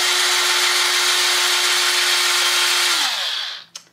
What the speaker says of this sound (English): Maybe if I go from the side and just kind of drill through it.